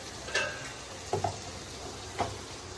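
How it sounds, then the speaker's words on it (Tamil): Brinjal sautéing in a pan for a pakoda curry gives a soft, faint sizzle, with a few sharp spoon clicks and scrapes against the pan spaced across the moment. "அதுக்கு அடுத்து வந்து கத்திரிக்காய் போட்டுக்கணும்"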